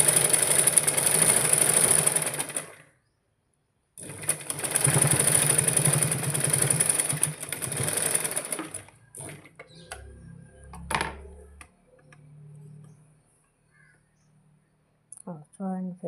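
A sewing machine runs steadily while stitching a straight hem line, in two long runs separated by a short pause. After the runs come sparse faint clicks and a brief bit of speech.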